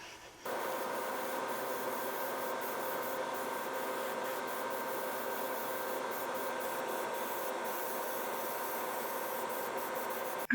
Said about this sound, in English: I used airbrush to paint them because it was the easiest way